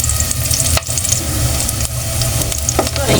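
Aromatics sizzle steadily in hot oil, frying to golden brown as the base for salmon head sinigang, with a dense continuous crackle, close and loud, and no talking.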